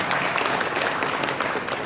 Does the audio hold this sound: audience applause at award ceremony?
yes